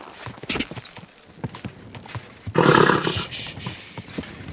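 Horse hooves clopping in Kingdom Come: Deliverance II, a steady rhythmic run of sharp hoofbeats, interrupted midway by a loud roaring burst before the hoofbeats continue.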